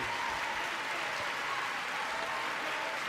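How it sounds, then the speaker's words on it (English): Sustained applause fills the chamber at the State of the Union address, a dense, steady wash of clapping from a large audience throughout, with no one speaking over it. "Look at Kamala just standing up there clapping."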